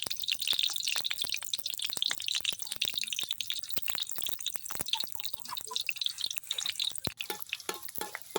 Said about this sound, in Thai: ตาใส่กระเทียมลงไป เจียวให้เกิดความหอมก่อนนะคะ